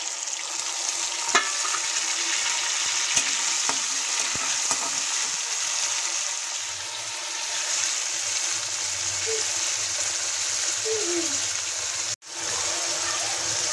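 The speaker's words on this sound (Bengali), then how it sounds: "আদাটা একটু ভেজে নেওয়ার পর দিয়ে দিচ্ছি কেটে রাখা টমেটো।" Chopped tomatoes added to ginger frying in a pan for lauki kofta curry make a steady, bright sizzle with a watery bubbling undertone, broken by occasional clicks and scrapes of stirring and a brief dropout near the end, with no voices.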